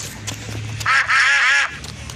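Ducks quacking in a children's toy game, a couple of loud, close quacks rising over soft background music.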